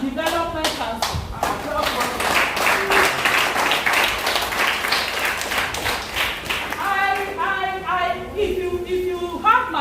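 An audience applauds at a community symposium on drug abuse prevention, producing a steady wash of many hands clapping for several seconds. A voice speaks over the clapping at the start and again toward the end.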